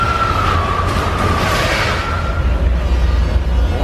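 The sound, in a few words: train rushing at riders in Universal Studios attraction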